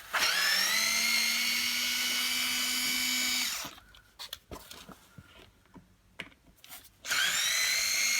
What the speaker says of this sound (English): going to start removing these screws then